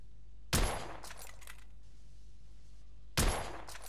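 A firearm in The Order: 1886 fires two sharp, loud gunshots about two and a half seconds apart, each a hard crack followed by brief ringing echoes and debris clatter over a low steady hum.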